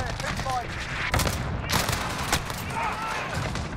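Automatic gunfire from a Bizon submachine gun in Call of Duty Modern Warfare, dense rapid bursts with a few louder cracks, close and continuous over a noisy game mix.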